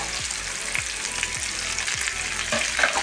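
Ginger, garlic and curry leaves fry in hot oil with a dense, even sizzle, while low repeated scraping strokes of stirring come about twice a second; no voices.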